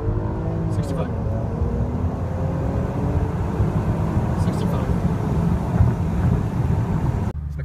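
BMW 760Li engine pulling hard from first into second gear, a steady loud engine drone with rising harmonics and a brief shift dip, heard from inside the car with faint voices underneath.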